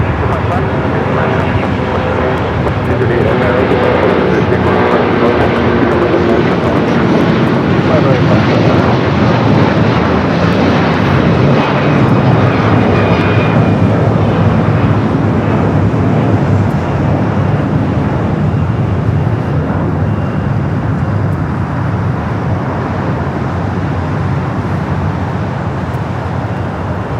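Heavy jet aircraft roar continuously at Los Angeles LAX airport, a loud, sustained rumble that never lets up, while voices talk over it throughout.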